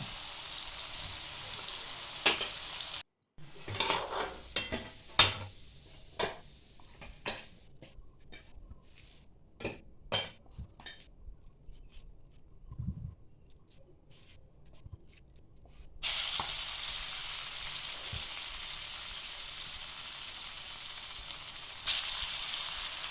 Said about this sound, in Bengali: এবার বাকি কাবাবগুলিও আমরা গরম তেলে ছেড়ে দিচ্ছি, ভালো করে এপিট ওপিট করে লাল লাল করে ভেজে নেবো বলে।